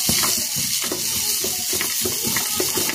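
Chopped vegetables frying in white oil, producing a bright steady sizzle with soft rhythmic stirring and scraping taps throughout, close and fairly loud, with no talking.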